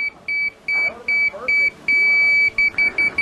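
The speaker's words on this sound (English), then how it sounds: "When the detector is on grade or level with the laser beam, it gives me a solid tone." The detector of a Johnson 40-6535 self-leveling rotary laser level emits a high electronic tone in rapid on-off beeps, briefly merging into a longer steady tone before pulsing again, with a faint background voice underneath.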